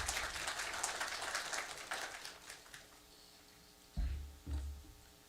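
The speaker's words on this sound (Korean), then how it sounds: "우리 박수로 환영하며 격려했으면 좋겠습니다." A church congregation applauds a missionary at a Sunday worship service. The clapping is faint and distant and fades out over about two seconds, followed by a low hum and a couple of dull thumps.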